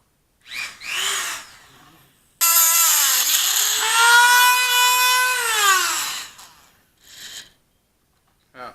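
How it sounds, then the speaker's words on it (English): A high-powered Dremel rotary tool cuts through the steel body of a fire extinguisher, a loud, sustained whine that sags slightly in pitch under load for about four seconds, framed by brief bursts of talk and shorter grinding before and after. "I'm cutting a friggin' fire extinguisher in half with a high powered Dremel"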